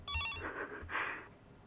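A telephone rings in the Higurashi console game, sounding a short trilling bell burst and then two longer swelling rings, close and clear with nobody talking.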